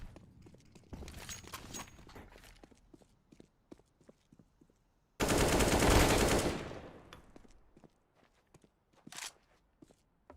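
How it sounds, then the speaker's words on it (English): Automatic AK rifle fire in a professional Counter-Strike match, a loud sustained burst lasting about two seconds amid scattered footsteps and quieter game sounds. "Smear with the AK headshot"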